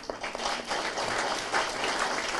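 A crowd at a local political meeting applauds in a steady, moderately loud patter of many hands clapping, with no speech over it.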